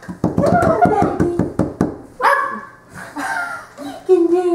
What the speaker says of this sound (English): That's the first time I heard her bark.